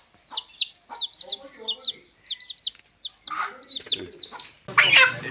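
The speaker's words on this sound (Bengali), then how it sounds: "28 দিনের মুরগির বাচ্চা আমার হাতে।" Young 28-day-old farm broiler chickens give rapid, high, upward-sliding peeps and cheeps in quick clusters, close and fairly loud, with some rustling and background noise building near the end.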